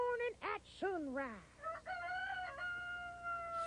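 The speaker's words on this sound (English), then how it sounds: "Oh, and R also stands for rooster. See, rooster." A rooster crows on a farm in a children's television scene, a close, loud cock-a-doodle-doo with rising and falling calls lasting a few seconds, heard alone without talk.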